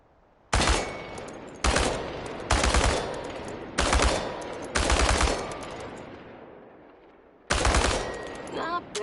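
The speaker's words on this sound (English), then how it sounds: "The biggest challenge is compensating for recoil in automatic firing mode." Automatic rifle fire aimed at tin cans on a shooting range in the survival game Chernobylite. Six loud, close bursts ring out with echoing tails and pauses between them, and light metallic clinks follow the last burst.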